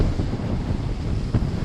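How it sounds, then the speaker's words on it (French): Wind gusts buffet a sailing boat at sea near the Spanish coast, a loud rushing roar with low rumbling and a brief stronger gust near the end. "Le vent revient un peu parce qu'il est parti, il est revenu, il est parti."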